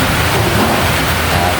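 Windy typhoon weather with rain, a steady broadband rush of wind and rainfall at roughly constant loudness throughout, with no voices in the foreground.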